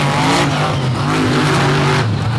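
Two well-prepared race cars at Bloomsburg roar past at full throttle toward the finish line, loud and close, their engine notes rising and falling over a short continuous burst with no talking.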